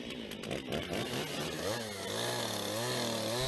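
A chainsaw engine drones up close as it carves wood, its pitch rising and falling as it revs and bogs down.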